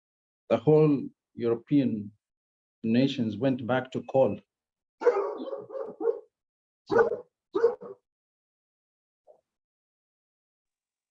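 A pet dog barks in short, sharp bursts, several close and fairly loud, mixed with someone talking indoors, then tapers off to quiet with one faint final yip.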